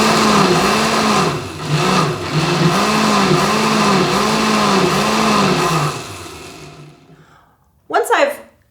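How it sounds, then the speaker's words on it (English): A blender runs loudly, pulping fungi into slurry for handmade paper, its motor whirring with a steady wobbling pulse before winding down, followed by a brief clattering burst. "I'm gonna add this back into the blender and run through this process 3 or 4 times before I'm ready to pull my paper"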